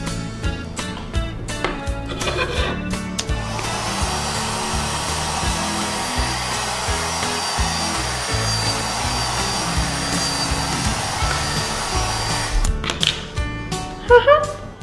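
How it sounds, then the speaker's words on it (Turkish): A toy hair dryer blows with a steady, loud whirring hiss for most of the stretch, starting and stopping with clicks amid soft handling noises, with brief talk at the start and end. "İlk başta saçına bir fön çekelim."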